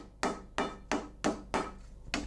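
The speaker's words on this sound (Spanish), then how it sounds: "el señor Sirven, a golpe de mazo de madera, redondea la pieza y machaca la soldadura hasta conseguir uniformidad en todo el cuerpo" A wooden mallet pounds a handmade copper pot to round it and flatten the weld, six solid, evenly spaced blows ringing close and sharp, with quiet gaps between strikes.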